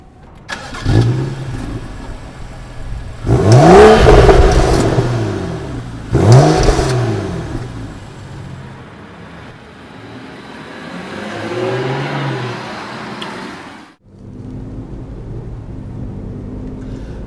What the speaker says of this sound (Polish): BMW 435i ma pod maską 3-litrową rzędową szóstkę o mocy zaledwie 306 koni mechanicznych